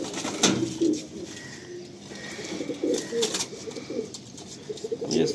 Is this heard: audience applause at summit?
no